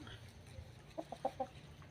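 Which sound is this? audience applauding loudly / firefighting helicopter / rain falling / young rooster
young rooster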